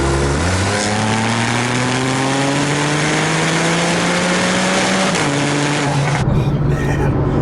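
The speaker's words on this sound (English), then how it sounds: "Hearing that sound of that flat 6 coming from the back is just absolutely glorious." Flat-six engine of a 2012 Porsche 911 Carrera S with dual-clutch transmission revving loudly from the rear, pitch climbing steadily through the gears for several seconds, then briefly dropping before a final rise and cutoff.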